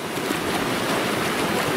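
Snowmelt mountain streams rush along a spring hiking trail in the Ariège Pyrenees, a constant, loud, dense water roar with no break and no voices.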